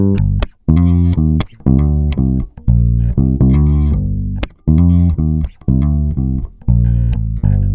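A deep, heavy bass line plays in choppy, punchy notes with a full, boomy low end, starting and stopping in short rhythmic phrases.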